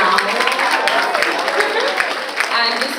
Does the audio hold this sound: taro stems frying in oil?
no